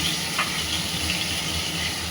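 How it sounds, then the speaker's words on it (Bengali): Fish frying crisp in a pan at home, a steady close hiss and sizzle of oil running continuously with no voices. "তুমি যে মাছ ভাজছে মাছটা কড়া করে ভেজে তুলবে"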